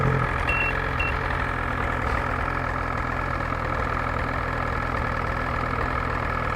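A Ski-Doo turbo snowmobile idles at about 1,200 RPM outdoors in the snow at dusk, a steady, even engine rumble running unchanged throughout with no voices.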